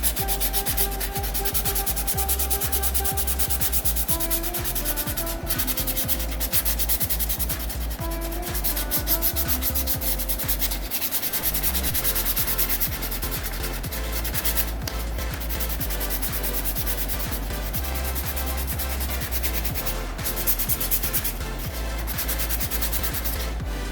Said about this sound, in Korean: 사포로 살살살 문질러서 면을 잡아주세요.